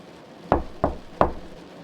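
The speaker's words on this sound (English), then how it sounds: "his hands trembling as he knocked on the door" Three firm knocks on a wooden house door, evenly spaced and close, each a sharp thud with no voices around.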